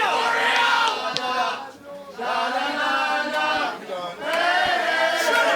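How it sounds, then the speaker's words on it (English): A sold-out wrestling crowd at a STARLINE Pro show sings and chants at a disliked wrestler, the loud massed voices rising in sustained sung phrases with brief dips between them, filling the hall. "Our sold out fans are singing to Steven Persons to get out of it"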